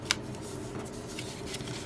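A sheet of A4 paper is folded along a crease, giving a soft crinkle and brief rustle after a small sharp tick at the start; quiet and close, with no talking.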